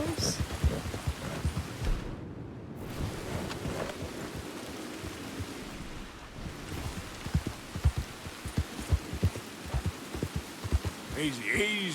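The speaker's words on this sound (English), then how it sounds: "A little bit of stinging rain." Steady rainfall in the Red Dead Redemption 2 western game runs through the whole stretch beneath a person talking, with occasional low rumbles, some clip-clop of horse hooves and a brief bright call near the end.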